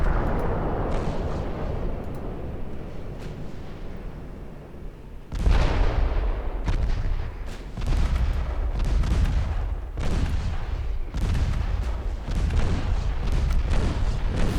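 Naval guns booming in Ultimate Admiral Dreadnoughts, among them 5-inch guns: a low rumbling barrage, then a string of heavy, loud reports every second or so, each trailing a deep roar, with no voices.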